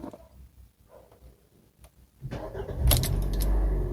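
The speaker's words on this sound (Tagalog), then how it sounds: "it's either nasa neutral ka or nasa P para ma-start mo ang makina." Automatic-transmission car started with a key: quiet key jangle and clicks, then the engine cranks and catches into a steady loud idle.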